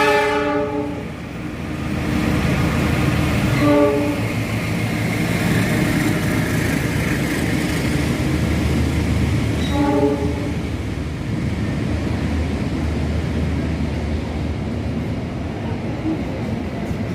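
Commuter train passing through Jatinegara station in Indonesia, with a loud, steady rail rumble throughout and two horn blasts near the start and around ten seconds in.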